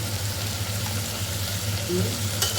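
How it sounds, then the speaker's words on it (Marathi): Onion and tomato sauté in a pressure cooker for moong dal khichdi, giving a steady, close frying hiss that runs without a break through the whole moment. "त्यालाही व्यवस्थित परतून घेऊ मी थोडंसं आधी टाकून घ्यायचं आपला कांदा टमॅटोवर थोडंसं शिजायला पाहिजे ना म्हणून"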